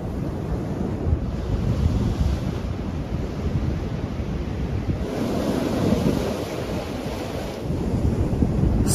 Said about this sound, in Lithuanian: stebėti, kaip jūros bangos skalauja korėtą vulkaninės kilmės pakrantę